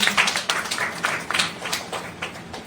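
An audience at a book launch applauds, a crowd of fairly close hand claps forming a continuous patter of separate sharp claps, heard alone without talk.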